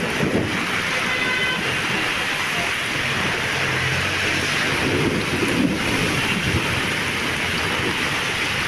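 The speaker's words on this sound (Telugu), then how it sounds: "ఒకవైపు వర్షం పడుతుంది" Heavy monsoon rain pours steadily in the Telugu states, a dense, continuous wash of downpour with possible low rumbles of thunder blended into the roar; no voices are heard.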